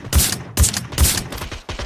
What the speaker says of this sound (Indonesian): Ada tembakan dari belakang